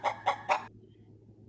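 Chicken clucking used as a sound effect in a student radio play, three quick, evenly spaced clucks up close, then near silence before a faint sound starts at the end.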